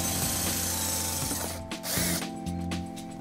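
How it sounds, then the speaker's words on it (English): A power drill with a 5/16 bit whirs and grinds through a 2016 Infiniti QX60 bumper in short bursts, briefly stopping and restarting, close and loud. "then we're gonna use a 5/16 drill bit to drill our first hole"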